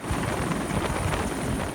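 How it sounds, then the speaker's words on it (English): A rescue helicopter touching down on a beach makes a loud, dense roar of rotor wash and engine noise that fills the whole moment, close and continuous with a faint high whine above it. "The Life Flood Rescue helicopter touching down for one of many beachside rescues."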